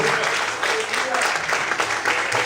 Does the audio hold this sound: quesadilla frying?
no